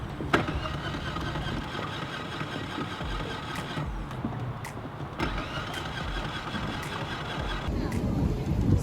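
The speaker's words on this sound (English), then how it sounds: "last thing that we're doing, testing the outboard." A 2016 Suzuki DF15 outboard motor runs steadily with a droning mid-pitched hum, with a few sharp clicks and knocks over it.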